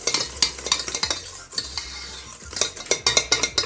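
A large silver stand mixer mixes tres leches cake batter, with rhythmic scraping and clattering in bursts of the beater against the bowl over a low motor hum.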